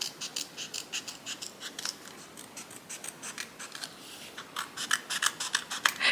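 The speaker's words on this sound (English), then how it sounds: "so I would just cut it out like this with my big scissors" Large scissors snip through paper for a Gothic romance Halloween shadowbox craft, a steady run of close, crisp cutting strokes with no talking.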